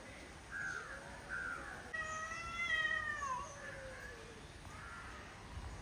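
Two cats, one of them white, meow and yowl at each other in a tense standoff before a fight, with a drawn-out, rising and falling caterwaul in the middle and quieter mewing on either side, fairly close.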